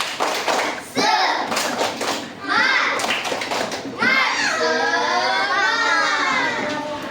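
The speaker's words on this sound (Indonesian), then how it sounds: "Baik anak-anak sekalian, tepuk semangat" Schoolchildren performing the rhythmic 'tepuk semangat' spirit clap in a classroom, bursts of group clapping mixed with loud children's chanting voices.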